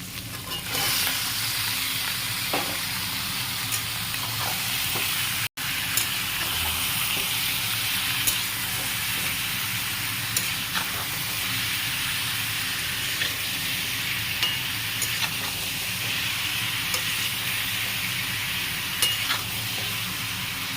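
Onions and tomatoes frying in a pan before chicken goes in, a close, loud, continuous sizzle with occasional light stirring clicks and one brief dropout.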